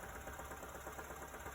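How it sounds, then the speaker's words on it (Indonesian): Honda Accord engine idling steadily during a radiator coolant flush, a constant close mechanical hum and rumble with no pauses. "Ditambahin terus dengan kondisi mesin nyala."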